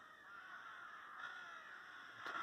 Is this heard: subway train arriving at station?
no